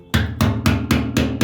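A hammer taps a screwdriver to tighten a clamp on a Ford F-150 fuel tank, six sharp, evenly spaced metallic knocks in steady rhythm, close and loud.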